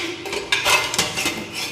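Dishes and pots being handled, a close series of sharp clinks and clatters of metal and crockery knocking together at an irregular pace.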